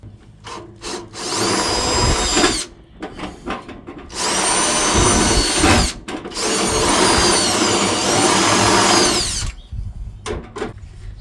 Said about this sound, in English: I'm gonna have to drill out this rivets that holding to this front